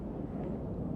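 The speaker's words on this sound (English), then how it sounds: "We can hear those airplanes going over right now" A low, steady rumble from an airplane passing over Waterworks under the Des Moines International flight path sits dull and constant across the whole second, with no voices.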